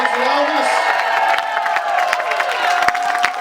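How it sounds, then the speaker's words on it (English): A live crowd at an Elvis Presley 88th birthday proclamation event in Memphis claps and cheers in a dense, sustained roar, with whoops and scattered sharp claps rising over a voice on a loudspeaker. "big round of applause for everybody on this stage"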